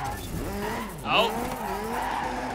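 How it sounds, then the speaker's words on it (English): A rally car in the Dirt 3 racing game drifts with a rising, falling engine note and a brief sharp tire squeal midway, while someone talks over it. "Drift through there."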